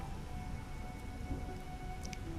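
Steady rain hisses under a low thunder rumble in The Witcher video game, with a faint high tone near the end.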